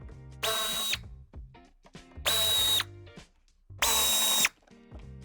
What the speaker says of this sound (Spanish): Una vez hemos levantado el vehículo, quitaremos los tornillos de la parte inferior